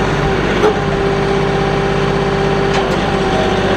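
A tractor engine runs steadily at mid throttle, a loud, continuous mechanical drone with a sustained hum that holds even throughout, close by with no talk.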